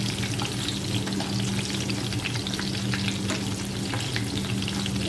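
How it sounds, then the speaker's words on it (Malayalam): Chicken pakoda pieces deep-frying in hot oil over a medium flame give a steady, dense crackling sizzle throughout, close and fairly quiet, with no talking. "ഫ്രൈ ചെയ്യുന്നത് കേട്ടോ."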